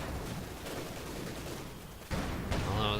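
Mortar fire and explosions roll through a Company of Heroes 2 battle, a dense, rumbling barrage of booms and blasts that fills the scene, with a sharper impact near the end.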